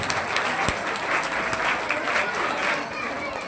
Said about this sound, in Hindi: एक बार ताली बजा के स्वागत करेंगे